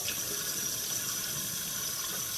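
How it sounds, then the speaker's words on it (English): Tap water running steadily into a sink while carrots are rinsed, a constant close hiss with no breaks and no talk. "And I'm almost done rinsing the carrots."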